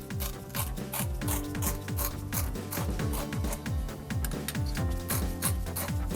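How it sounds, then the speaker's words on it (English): A spiral cement tool is twisted clockwise inside a tire injury with Tex 760 chemical vulcanizing fluid, making a rapid, repetitive rasping and grinding that rises and falls in quick strokes, close and steady with no talk. "Cement the injury from inside the tire using Tex 760 chemical vulcanizing fluid and a spiral cement tool with a clockwise rotation"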